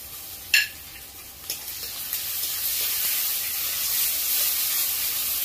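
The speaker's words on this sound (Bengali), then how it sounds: "ভালো করে কষিয়ে নেব মশলাটা।" Ground poppy seed and peanut paste fries with chopped spices in a pan, giving a steady broad sizzle and hiss with a few sharp stirring clicks early on, close and alone.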